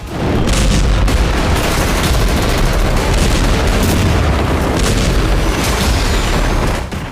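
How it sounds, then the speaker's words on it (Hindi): Aerial bombing explosions from an Israeli military strike roll as a dense, loud, sustained rumble of overlapping booms and crackling bursts, continuous from start to finish. "आसमान से जबरदस्त बमबारी"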